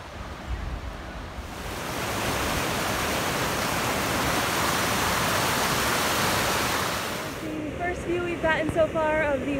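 A waterfall on the Appalachian Trail approach trail on a lightly snowy day makes a steady, broad rushing roar that swells in, holds for several seconds, then fades as a person begins talking.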